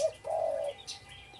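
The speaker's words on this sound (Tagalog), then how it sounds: "Ganun ang kalapati." Pet pigeons give a short, close coo lasting about half a second, followed by faint chirps and a soft flutter in a quiet room.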